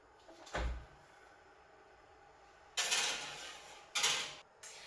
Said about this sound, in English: These are now going to go into the oven for about 40 to 45 minutes